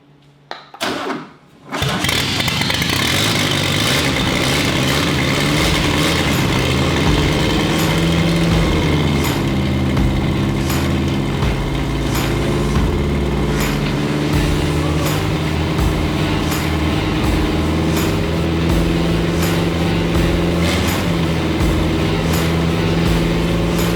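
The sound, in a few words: VW race car engine starting and running without an exhaust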